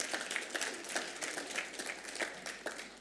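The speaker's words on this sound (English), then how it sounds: "Please give him applause" Applause from an audience at a talk, a steady patter of many hands clapping at moderate volume with no voices over it, lasting the full three seconds.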